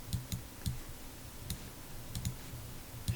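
Computer mouse clicks while working in Microsoft Access, about ten quiet, sharp clicks, some in quick pairs, spaced irregularly against a faint background hum.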